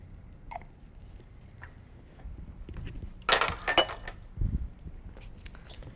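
A spoon stirs balsamic vinegar and tamari soy sauce together in a dish, giving a brief cluster of light metallic clinks and scrapes midway amid quiet kitchen background.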